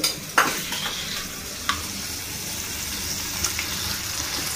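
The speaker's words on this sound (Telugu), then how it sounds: "చింతపండుతో పాటు పుదీనా ఆకు కూడా మంచిగా ఫ్రై అవుతుంది." Mint leaves and soaked tamarind fry in a pan with a continuous close sizzle, broken by a few sharp clinks and scrapes of stirring, no voices.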